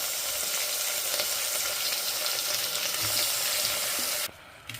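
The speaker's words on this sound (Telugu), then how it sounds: "ఒక 2-3 నిమిషాలు ఫ్రై అవ్వనిద్దాము రైస్ని, పెసరపప్పుని." Soaked rice and moong dal fry in ghee in a pan, giving a loud, continuous close-up sizzle for most of the moment before it suddenly drops away near the end.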